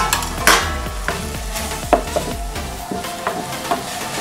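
Chopped capsicum is stirred into beef mince with tomatoes sizzling in a pan, with a steady close sizzle and several sharp spoon scrapes and knocks at irregular intervals.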